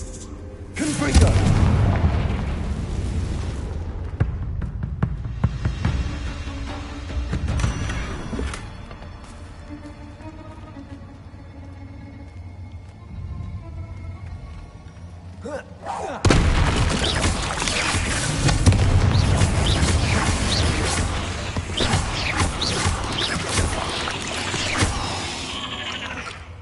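Confringo blasting-spell explosions in Hogwarts Legacy boom loudly in two long bursts, each a heavy roaring blast with rumbling debris, separated by a quieter stretch of lingering crackle and ambience, with voices heard in between.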